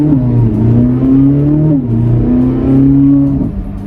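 2026 Corvette Z06 pulling briefly under quarter throttle, its engine note climbing smoothly and dipping once mid-pull, heard close and steady for a few seconds with no talk.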